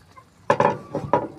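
Stirring food in a cooking pot: a few close metallic clinks and scrapes of a utensil against the pot, in a short uneven burst of about four strikes.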